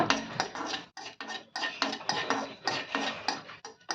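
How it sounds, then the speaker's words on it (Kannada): Raisins frying in ghee are stirred briskly in a pan with a metal spoon, making rapid, close, continuous scraping and clinking. "ಇದೇ ತುಪ್ಪದಾಗ ಸ್ವಲ್ಪ ಒಂದೇ ನೋಡ್ರಿ 10-15 ಕಿಸ್ಮಿಸಿ ಹಾಕ್ತಿದ್ದೀನಿ. ಇವನು ಚಂದ ಫ್ರೈ ಮಾಡ್ಕೊತೀನಿ"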